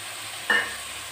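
Cashews dropped into a hot pan for fried rice give a brief burst of frying sizzle with a stir, near and alone, then fade back to a quiet background hiss.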